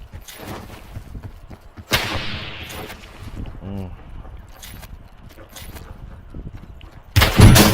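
Gunfire in the video game Call of Duty Warzone: a loud sharp burst at the start, a short rattling volley midway and a heavy blast at the end, all over a busy game background.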